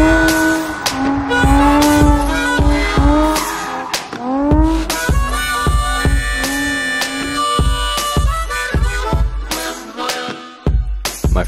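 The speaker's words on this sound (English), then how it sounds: "My first drift car was a 1995 Nissan 240SX, also known as a Zenki S14." A 1995 Nissan 240SX Zenki S14 drift car, automatic and underpowered, drifting in Arizona: loud, sustained tire squeal with wavering tones over engine noise, broken by repeated sharp bursts.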